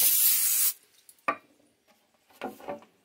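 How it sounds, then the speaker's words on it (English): A short burst of cooking spray hisses onto a pan, followed by a few light clinks and knocks of pans being handled. "take 2 of these pans and just spray with some non-stick"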